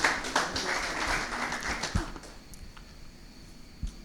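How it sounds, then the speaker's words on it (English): A small crowd at a football media launch gives a round of applause for the vice president of SAFA, fairly quiet scattered clapping that fades out over a few seconds, leaving a few isolated claps. "Vice President of SAFA, Mr. Linda Zwane, round of applause for him as well"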